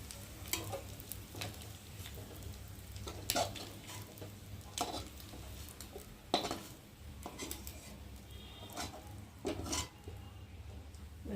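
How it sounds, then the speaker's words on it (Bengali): Fried prawns being lifted out of a wok: a steady low frying sizzle with repeated sharp metallic scrapes and clinks of a utensil against the pan, close and fairly loud, no talking. "আর এখন আমি চিংড়ি মাছগুলোকে তুলে নেব।"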